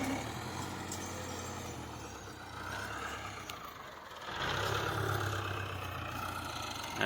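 A farm tractor's engine runs steadily nearby, climbing an incline in a field, with a continuous low mechanical rumble that rises in loudness after a brief dip midway.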